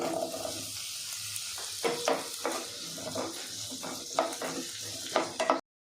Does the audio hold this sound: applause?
no